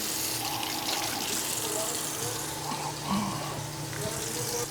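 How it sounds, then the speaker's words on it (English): Water runs steadily from a tap at a dinner table setting, a soft continuous splash under faint background voices and clinks. "I'm gonna hit this with a little water."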